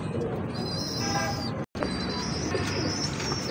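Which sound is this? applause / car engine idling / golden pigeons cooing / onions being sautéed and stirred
golden pigeons cooing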